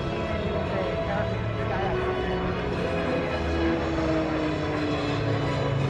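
At a military airshow at Joint Base McGuire-Dix-Lakehurst, a turboprop aircraft flies aerobatic maneuvers such as a hammerhead, making a continuous distant engine drone that holds a broad, even roar throughout.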